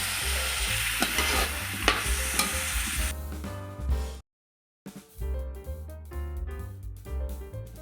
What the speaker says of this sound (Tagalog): bali i-fry muna natin itong potato and carrot